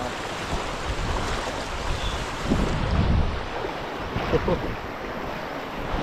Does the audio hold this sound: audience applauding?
no